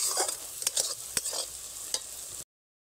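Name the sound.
stirring and frying spice paste in a wok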